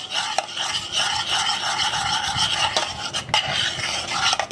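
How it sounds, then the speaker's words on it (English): Cold chopped butter is stirred into warm lemon curd with a continuous, close rasping scrape of a utensil against the pan and a few sharper knocks, with no voices. "Just going to put that in there and stir that in"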